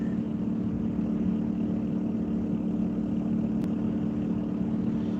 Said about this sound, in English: Y'all hear that little dude scooter over here?